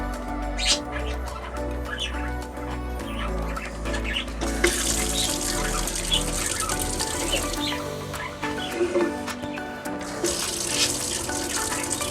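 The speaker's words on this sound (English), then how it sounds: "that tank is filling up a little bit quicker than it usually does" Water rushing steadily into an RV water tank in an off-grid camper, a continuous loud splashing flow with brief surges, while birds chirp faintly in the background and no one speaks.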